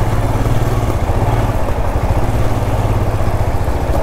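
An adventure motorcycle creeps along a dangerous, rough road in first gear, its engine thrumming loud and close at low revs with steady chugging and clattering.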